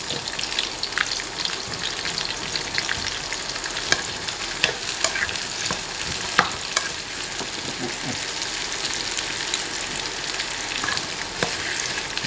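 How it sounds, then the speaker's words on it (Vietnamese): Bitter melon stir-frying in a hot pan, with steady loud sizzling and crackling throughout and occasional sharp pops and scraping stirs. "Rồi mình sẽ đổ khổ qua vô nha cả nhà."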